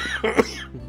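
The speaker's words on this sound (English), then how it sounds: "I still have my cough" A single close cough, a short harsh burst with a smaller catch around it, heard alone without talking.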